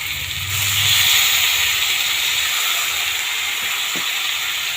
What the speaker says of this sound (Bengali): এইবার মশলাগুলো যাতে পুড়ে না যায় তার জন্য আমি একটু জল দেবো।